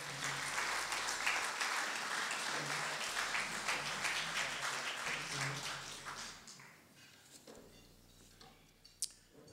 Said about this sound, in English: Could we give Gil a nice round of applause